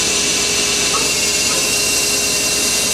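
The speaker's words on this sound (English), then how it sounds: "Right now we're going to go ahead and fire up the spindle." The spindle of a Mori Seiki Frontier L1 CNC turning center runs as a steady, loud, broadband machine whir with a constant high whine, continuous for the whole stretch with no pauses.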